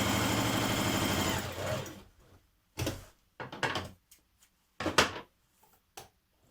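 A sewing machine runs on a long straight stitch down a dress seam, a sustained whirring burst for the first two seconds, followed by scattered short bumps and clicks of fabric and machine handling.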